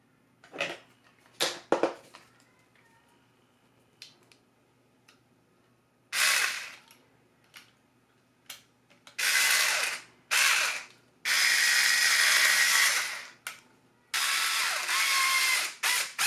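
A power driver runs Torx screws with small washers into a Dyson V10 Animal vacuum during a trigger repair, giving several short whirring bursts, some longer, separated by quiet pauses and light clicks.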